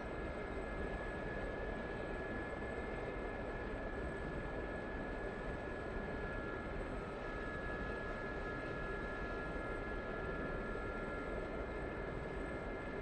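A steady, droning airplane engine hums continuously with a fixed high whine during a simulated night flight in a Gazelle, even and unbroken with no talk.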